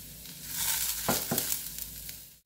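Dry seeds sizzle and crackle in a hot pan, with a couple of sharp scrapes or stirs partway through, ending abruptly.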